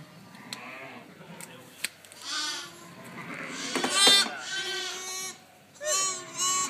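Charolais sheep and lambs bleat repeatedly on a farm during lamb tagging, several nearby wavering calls overlapping one another with voices talking between them.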